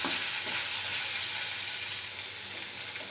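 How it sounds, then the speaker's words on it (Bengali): Fish pieces fry in hot oil in a home kitchen, giving a loud, dense, continuous hiss of sizzling that holds steady for the whole moment, with no voices. "মাছগুলো সুন্দর কড়া করে ভেজে নেব"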